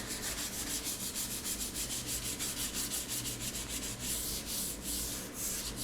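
Sandpaper rubbing over a filled and smoothed wooden surface, a steady rasping back-and-forth that runs continuously and close up with no pauses.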